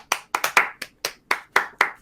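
A small group of people clap in welcome for new members, a short uneven burst of about nine claps, close and fairly loud, with no talking.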